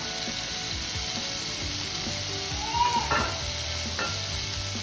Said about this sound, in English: Tomatoes have grilled so well on one side.